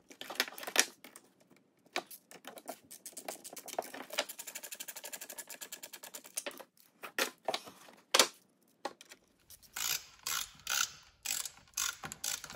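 Screws are driven in while a foot heater is fitted in a car, giving a series of close, clicking and whirring mechanical bursts with short pauses between them and no talk.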